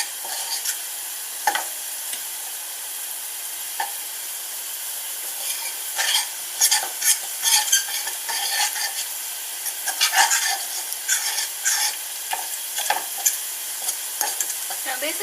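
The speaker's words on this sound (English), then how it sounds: "we're going to cook off our chips as well" Chips cook in garlic oil in a pan beside pan-fried fish, giving a steady close sizzle broken by repeated stirring scrapes and clinks, with no talking.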